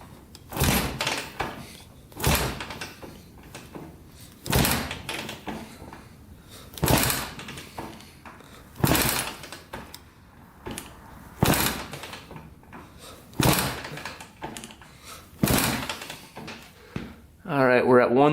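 A Honda 200X engine with the throttle held open is kicked over repeatedly, about eight heavy rhythmic thumping strokes with the engine not catching, and a voice speaks briefly at the end.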